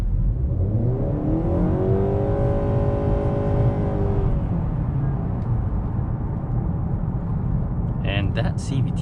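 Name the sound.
2021 Honda Accord Hybrid driving, test drive interior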